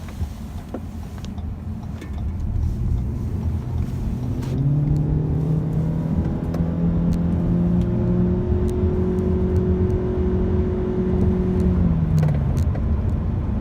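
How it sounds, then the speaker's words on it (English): A 2018 Ford C-Max hybrid accelerating hard to pass another car: a rising engine drone with a smooth, steadily climbing tone over road noise, holding strong for several seconds before easing off. "I'm going to pass him here and show you what the passing power looks like"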